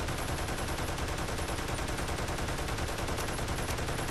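Turret in the Toy Soldiers: War Chest game fires a continuous rapid stream of shots, dense and loud, an unbroken machine-gun rattle throughout.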